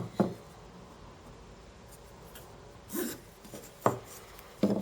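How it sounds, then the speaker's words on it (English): A pencil draws around a piece of pine softwood to mark a half lap joint, giving a few short scratchy strokes separated by pauses, close and fairly clear, with no talking. "use the other bit of wood you're hoping to join it to and draw around it"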